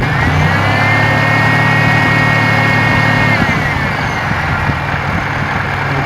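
A car engine runs close by during an A/C refrigerant recharge with a loud, steady mechanical hum whose pitch shifts partway through as the throttle changes.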